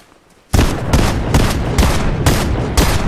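Loud, close bursts of rapid gunfire in Fortnite while shooting at a goat, starting abruptly after a brief quiet moment and continuing as a dense, repeating fusillade with no talk.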